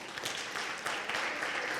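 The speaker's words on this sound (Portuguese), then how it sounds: "Palmas para vocês." Conference audience applause at a professional congress, a steady, dense wash of many hands clapping at moderate distance with no voices over it.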